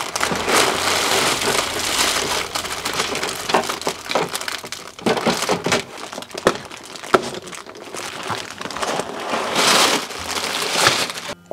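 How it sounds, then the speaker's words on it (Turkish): Close crinkling and crackling of plastic bags as white LEGO Creator Expert Taj Mahal inner boxes are opened, continuous rustling with occasional sharper clicks and no voices. "Beyaz kutularımızı da açıyoruz."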